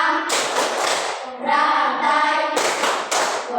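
Group of people doing Tepuk Pancasila, an Indonesian rhythmic clapping chant, with dense bursts of many hands clapping together, a brief lull with voices, then clapping resuming; close and fairly loud.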